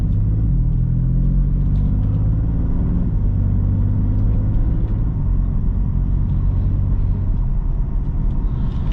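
A 2018 BMW M4 Convertible DCT Competition Package pulls away in automatic mode, its engine a steady, close, low rumble that holds throughout with no voices.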